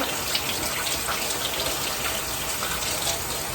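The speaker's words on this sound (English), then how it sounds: "So I'm going to turn on the hot water" Hot water runs steadily from a tap into a glass bottle, a continuous broadband gush with no clear breaks, close and fairly loud, with no talking over it.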